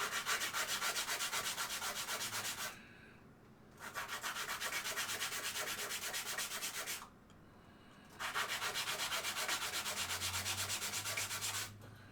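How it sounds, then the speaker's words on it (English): Sandpaper, 220 grit, rubbed across the edges of an RP2040 circuit board in steady back-and-forth strokes, three long bursts of loud, close scratchy sanding separated by brief pauses. "So I'm just going to take a piece of sandpaper."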